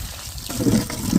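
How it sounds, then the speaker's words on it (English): Tap water running over garlic cloves being rinsed while planting garlic, a short close splashing and trickling burst that grows fuller and louder partway through. "You want to rinse your garlic off."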